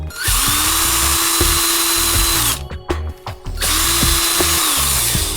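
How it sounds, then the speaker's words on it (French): A power drill whirs loudly in two sustained bursts, drilling a small hole in a wooden clothespin, separated by a short pause of clicks and handling noises. "je vais prendre ma perceuse, hop, et puis on va venir faire un petit trou par là"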